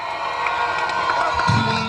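A crowd greets President Nayib Bukele at an outdoor event with a presidential podium stage, a dense, continuous roar of cheering and shouting with a few louder bursts near the end.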